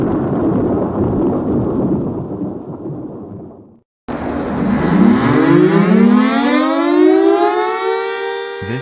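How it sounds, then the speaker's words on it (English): Federal Signal DTL-20 civil defense siren winding up loudly after a stretch of rumbling noise and a brief gap, its rising, wavering howl carrying many harmonics and holding strong to the end. "This is a DTL-20 made by Federal Signal"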